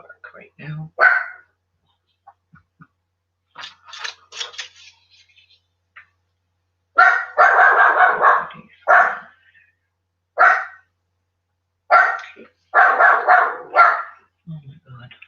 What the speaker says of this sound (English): please don't bark right now